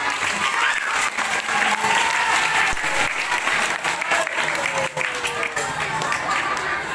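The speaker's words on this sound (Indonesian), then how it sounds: "Tepuk tangan kita semua." Steady, dense applause from an audience of children and parents at a Maulid Nabi celebration held by an Islamic school, continuous clapping and crowd noise lasting throughout, with some voices mixed in.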